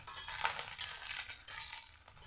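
Small chuna fish fry in a pan, giving a soft, steady sizzle with light stirring scrapes. It is short and fairly quiet, with no talking.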